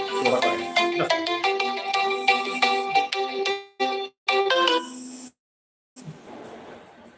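A phone plays a melodic ringtone for an incoming call, bright and fairly close, cutting off abruptly partway through and followed by faint background noise.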